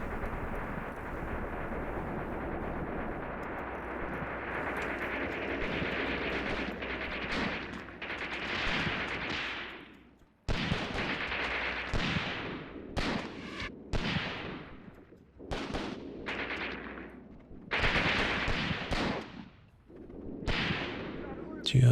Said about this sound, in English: I should really have had these machine guns shooting as well